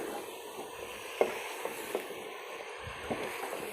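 Potato and eggplant curry sizzles steadily in a pan while being stirred and fried, with a few soft scrape and clack transients from the spoon over the continuous hiss.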